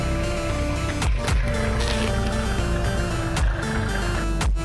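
A tractor's engine runs steadily at a near, constant hum while a load is filled, broken by a few sharp clunks and knocks, with no talking.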